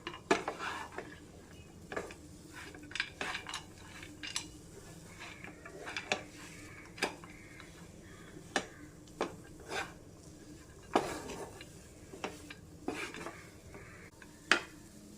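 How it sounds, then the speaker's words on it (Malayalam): A spoon stirs a thick banana and semolina snack mixture in a pan, making repeated scraping strokes and soft clinks against the metal at an irregular pace, close by over a faint low hiss. "നല്ലപോലെ ഒന്ന് മിക്സ് ചെയ്ത് കൊടുക്കണം"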